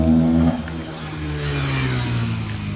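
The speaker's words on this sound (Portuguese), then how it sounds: "Essa moto barulhenta aí." A noisy motorcycle passes close by, its loud engine dropping in pitch at first, then droning steadily with a rough, buzzing tone.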